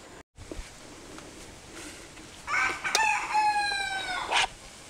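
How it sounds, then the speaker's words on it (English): A rooster crows once in the background, a long wavering call rising midway through, over faint ambient noise and a brief earlier cluck. "So you can hear Rotty the rooster in the background there"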